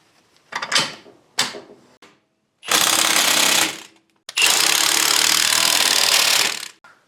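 A power tool drives a shock mount nut tight during an LS engine swap, starting with short buzzing bursts and ending in two long, loud, steady runs.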